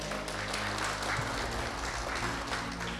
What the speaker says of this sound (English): Maybe give a lot of applause for you all.